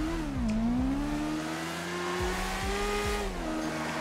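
A Lamborghini Huracan driving off-road in GTA 5, its engine revving up and down through gear changes with rising and falling pitch, close and steady.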